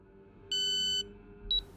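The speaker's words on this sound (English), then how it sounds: "There's the beep for the DRS." An electronic DRS beep from the F1 25 racing video game: a sustained tonal beep of about half a second, then two quick short chirps, over a low engine hum.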